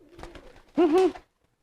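A racing pigeon coos once up close, a loud, rolling warble that follows some faint, scattered noises, and then the clip goes quiet.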